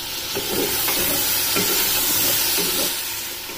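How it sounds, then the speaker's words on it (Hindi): Mutton and taro root fry in oil in a pan with a dense, continuous sizzle and hiss. Occasional soft stirring scrapes sit within it, close and fairly loud throughout. "अब अरबी और मटन दोनों को तकरीबन 5 से 6 मिनट तक अच्छी तरह से फ्राई होने देना है।"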